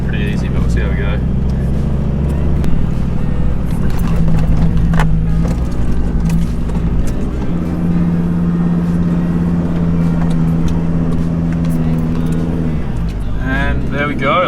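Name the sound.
4WD vehicle driving over Simpson Desert sand dunes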